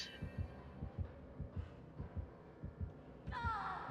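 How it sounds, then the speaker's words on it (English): Heartbeat terror radius in the Dead by Daylight video game, a steady thumping pulse of low double beats about twice a second, fairly quiet, with a brief higher game sound near the end and no talk. "If I go this way, gonna get heartbeat."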